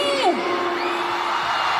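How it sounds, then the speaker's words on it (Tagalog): Concert crowd cheering, a sustained roar of whoops and shouts from a large audience, loud and continuous throughout, with a voice heard over the noise. "Grabe yung crowd tonight!"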